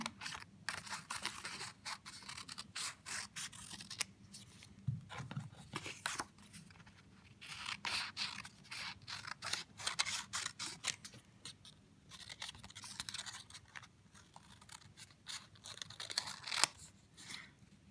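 Scissors snip through fabric on a sewing table while a princess-seam bodice is cut from the shoulder, a steady series of crisp close cuts and faint rustles with no talking.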